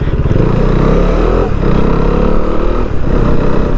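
A motorcycle engine revs and pulls away as the clutch is let out, a loud, close, steady drone with rising harmonics and a brief dip midway, no talking.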